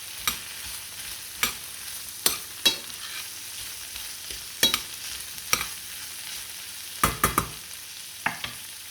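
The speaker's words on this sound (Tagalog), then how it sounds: "gisa-gisa lang po tayo at ang ating mushroom para mas pinalusog ang ating tanghalian" Mushrooms and small shrimp sautéing in a pan, a soft continuous sizzle punctuated by about a dozen sharp utensil taps and scrapes at irregular intervals, close and without talk.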